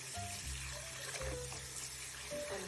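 Cold water runs steadily over a silk garment being rinsed by hand, a continuous close pouring and splashing sound with no talk.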